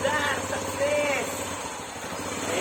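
A Honda Wave 100R motorcycle engine runs close by at a steady, rapid idle putter, with voices talking over it.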